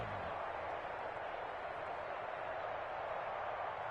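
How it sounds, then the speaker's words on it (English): A steady roar of stadium crowd noise from a video game American football match fills the whole stretch, a constant broad wash of cheering with no distinct claps or voices standing out. "Crowd getting in it a bit already."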